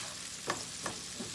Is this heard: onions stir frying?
yes